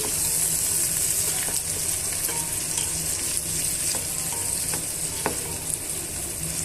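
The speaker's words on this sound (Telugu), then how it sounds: "ఇప్పుడు ఇవన్నీ కూడా మనం దూరగా వేయించుకోవాలి" Finely chopped onion and green chilli fry in a pan, giving a close, steady sizzle with faint stirring scrapes throughout.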